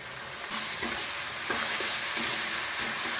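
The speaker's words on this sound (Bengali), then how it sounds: "এবার খুব ভালো করে কষিয়ে নেব" Tomato and spices cooking in a pan for a potato and cauliflower fish curry, a steady sizzle with stirring scrapes that picks up after a brief quieter start.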